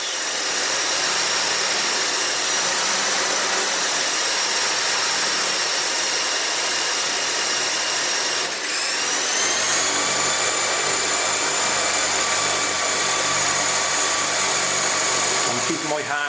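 The tail rotor of a CSGOG BL 2.4GHz 9004G RC helicopter spinning, a loud, steady high-pitched motor whine close by that holds throughout and rises slightly partway through.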